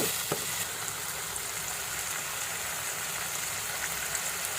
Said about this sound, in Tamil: தக்காளியை சேர்த்து நல்லா வதக்கி விடலாம் ஃப்ரெண்ட்ஸ்.